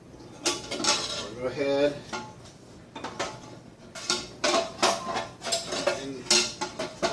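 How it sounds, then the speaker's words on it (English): A spoon clanks and scrapes against a metal pot as lactose is stirred into beer wort, irregular clattering strokes close by, with a person briefly speaking. "Put in my lactose, stir my lactose"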